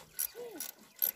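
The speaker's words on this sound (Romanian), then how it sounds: "asta deja e ultimul șurub. Care îl dăm acum jos" Short, quiet ratchet wrench clicks in a few separate bursts as the last bolt comes off the water pump of a Ford 3000 tractor.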